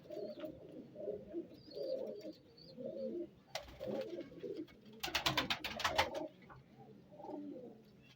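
Pigeons coo in repeated soft, low bursts, close and fairly quiet, with a few sharp rustles or clatters from the birds midway.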